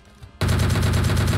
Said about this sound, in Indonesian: ada suara tembakan dari sini